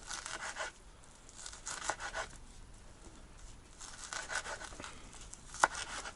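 A half-frozen liver pie being sliced into portions with a knife, giving soft close crinkling and scraping strokes in several bursts, with a sharp click near the end.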